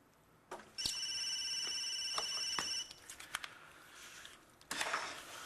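A telephone rings nearby with a bright, steady electronic tone held for about two seconds, then breaks off into short clicks before a brief burst of noise.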